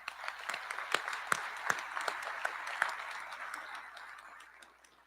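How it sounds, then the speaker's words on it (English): An audience at the 2022 Baltimore County inaugural ceremonies gives a round of applause, with scattered sharp claps over a steady wash of clapping at moderate level that fades toward the end. "A round of applause for them, please."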